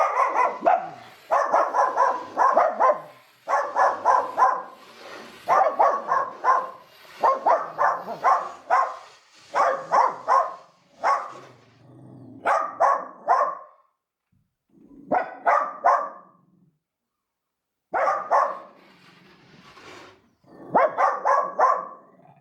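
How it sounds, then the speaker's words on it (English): Dachshunds barking from a back room in repeated clustered bursts of sharp yaps, separated by short pauses and one longer gap, moderately loud and a little distant. "they tend to bark and get a little crazy sometimes"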